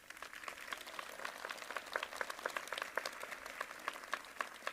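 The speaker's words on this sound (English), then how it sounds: "Please join me in offering them a much-deserved round of applause." Applause at a 2024 University of Maine at Farmington commencement ceremony, a crackly, moderately faint patter of many hands clapping that builds slightly and holds steady throughout without voices.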